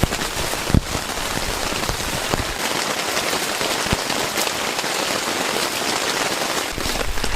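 Heavy rain pours on a hot tent during a rainstorm while camping, a dense, continuous loud patter with a few sharper drops and thumps close by.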